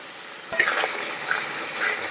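Beaten sour yogurt being stirred into spices in a hot pan, a soft sizzle with a spoon scrape and a brief clink near the start, close and fairly quiet.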